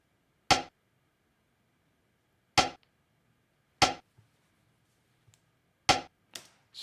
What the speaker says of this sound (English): And then this rim is mad cool.